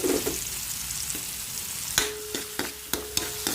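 Garlic fries in a pan while being stirred for ginisang sotanghon, giving a steady close sizzle with several sharp utensil clicks against the pan.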